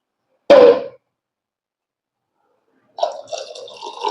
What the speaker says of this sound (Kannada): ಸೊ ಇದಕ್ಕೆ ಒಂದ್ ಸ್ವಲ್ಪ ನೀರು ಹಾಕೋಣ ಇವಾಗ, ಇನ್ನೊಂದ್ ಸ್ವಲ್ಪ ಹಾಕಿ ಚೆನ್ನಾಗಿ ಮಿಕ್ಸ್ ಮಾಡೋಣ.